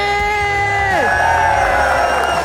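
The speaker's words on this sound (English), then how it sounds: "So all of you, give it a round of applause for Mr. B!" A crowd at a Blue Collar Tour event at a welding academy in Tucson cheers and whoops loudly, with sustained shouted voices dominating rather than distinct clapping.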